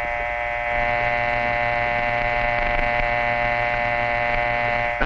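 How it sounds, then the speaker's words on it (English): A 1949 telephone dial tone plays alone as a steady, loud buzzing hum that holds without a break. "That's the dial tone."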